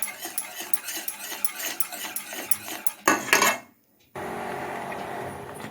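Thick kali dough being stirred in a pot, a rapid series of close scraping and clanking strokes from a utensil against metal, followed by a brief pause and a steady hiss.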